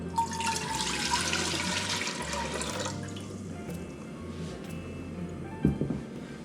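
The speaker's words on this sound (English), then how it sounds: "We're going to add our 4 cups of water." Four cups of water are poured into a pot for potato and bacon soup on a stovetop, a loud continuous splashing stream for about three seconds, then softer trickling and a brief clunk near the end, no talking.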